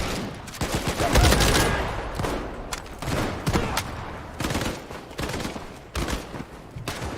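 Rapid bursts of gunfire in the WWII shooter Battalion 1944, dense overlapping shots and sustained automatic fire throughout, loud and close with continuous battle noise and no clear talk.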